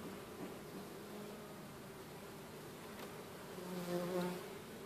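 Honeybees hum around an open top bar hive during a winter colony inspection, a soft, steady buzz of many insects close by that briefly swells louder, with no talk.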